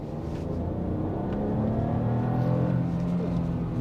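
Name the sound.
BMW 218i Gran Coupé 3-cylinder turbo accelerating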